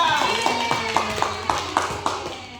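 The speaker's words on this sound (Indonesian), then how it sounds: "Tepuk tangan itu Ica." A classroom of students clapping for a classmate during an Islamic studies lesson, a short, rhythmic patter of claps in an even beat, with voices around it.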